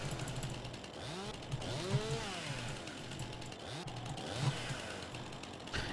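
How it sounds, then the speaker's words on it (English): Chainsaw in the video game Farming Simulator 19 revving up and down in repeated rising and falling whines over a steady buzzing idle, fairly close and with no talking. "I really can't be asked to faff around with the chainsaw, as far as the sounds."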